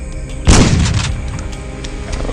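A single loud gunshot boom in the video game Antarctica 88 bursts in, its echo rolling off and fading, followed by a low rumbling background.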